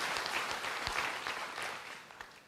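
A church congregation at an Easter service claps in praise, a fairly soft, rapid patter of many hands that fades slightly toward the end.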